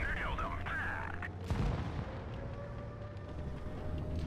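A tank cannon shot in World of Tanks Blitz glancing off the tracks: one heavy low boom around the middle, over a steady rumble of engine noise and game ambience, with a tonal whine early on.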